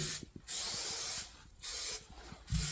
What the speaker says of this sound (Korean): 접착 스프레이를 한번 뿌려주시고 이걸 붙여주시는 게 좋아요.